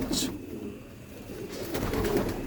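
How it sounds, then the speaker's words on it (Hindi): Patiala pigeons coo softly and low against a busy background, with a brief sharp higher sound near the start and continuous murmuring noise throughout. "ये है जी माशाल्लाह कबूतर"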